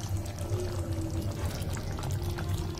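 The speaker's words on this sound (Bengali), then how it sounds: "এবার আমি দিয়ে দেব 1 চামচ ঘি।" A spoonful of ghee is poured into a hot pan while making sesame paneer, giving a steady, close liquid pour over a continuous frying hiss that holds level for about three seconds.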